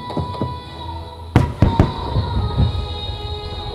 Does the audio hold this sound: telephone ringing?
no